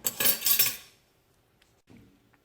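A utensil stirs a cornstarch and water mixture in a small container, giving a close burst of rapid clinking and scraping that stops abruptly and is followed by a few faint taps.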